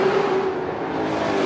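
ASA Late Model Challenge Series race cars roaring down the front stretch of the racetrack, a loud, steady engine roar with a sustained whine, close and continuous.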